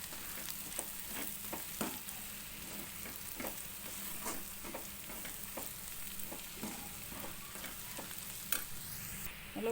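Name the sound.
stirring salt, turmeric and chilli powder into frying masala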